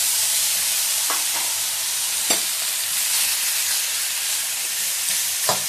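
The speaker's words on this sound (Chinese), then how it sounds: "首先锅里不要放油，把这个羊肉倒下去。" Lamb pieces stir-fry in a dry pot with no oil, giving a steady bright sizzle throughout with a few sharper clicks and scrapes of stirring.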